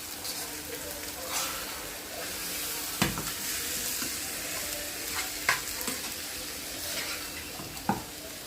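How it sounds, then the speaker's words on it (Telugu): Tempering spices frying in a pan for mango pulihora, a steady close sizzle with a few sharp clinks of a stirring spoon. "చూడండి పోపు మంచిగా ఫ్రై అయిపోయింది."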